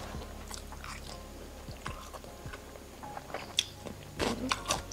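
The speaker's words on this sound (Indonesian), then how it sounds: "ini tuh makan mie pakai bawang merah lagi viral di TikTok" Shin Ramyun noodles eaten with raw shallots, chewed close to the mic in wet, irregular bites with a few sharper crunches, louder toward the end, over a faint room hum.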